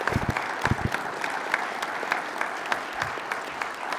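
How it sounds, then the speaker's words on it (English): Warm audience applause at a union regional council meeting, a continuous wash of many hands clapping with a few louder nearby claps, steady throughout. "Please give them all a warm round of applause to show your appreciation."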